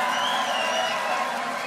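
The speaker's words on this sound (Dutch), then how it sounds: "En geef ze een groot applaus." An audience at a children's carnival song festival claps and cheers in a dense, sustained wash of applause that stays steady and fairly loud throughout.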